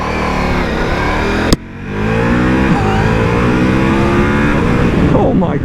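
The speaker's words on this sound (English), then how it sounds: "You hear it a lot more from the motor because the exhaust is so quiet on this bike." A 2021 Ducati Multistrada V4S pulls hard, its V4 engine note climbing in rising harmonics over a quiet exhaust after a brief cut, loud and close with a rider speaking over it.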